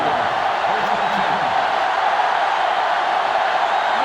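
Roaring sellout stadium crowd in NCAA Football 2005 during Michigan vs. Ohio State, a steady, dense wash of cheering noise filling the whole stretch, with a faint voice murmuring underneath.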